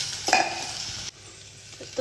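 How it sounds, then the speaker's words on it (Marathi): Soaked sabudana being mixed into potatoes and green chillies in hot oil, a soft sizzle with a spoon scraping and clinking against the pan, one louder scrape early and quieter stirring afterwards, close up. "ते आपण बटाट्यामध्ये आणि मिरच्या तेलामध्ये टाकलेल्या आहेत त्याच्यामध्ये मिक्स करून घ्यायचं आहे"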